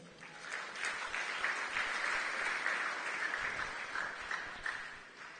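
A church congregation applauds together in a steady, dense wash of clapping that swells slightly and then tapers off toward the end, with no voices rising above it.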